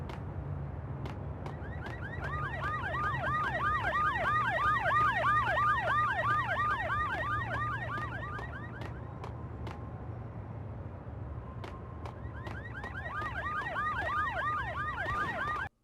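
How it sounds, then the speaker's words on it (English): Wailing alarm siren in the tutorial level of the PS2 game Max Payne, a steady rising-and-falling electronic tone that plays loud and continuous, briefly drops back around the middle, then resumes over a low engine-like hum. "I can better show it in the tutorial level with this alarm"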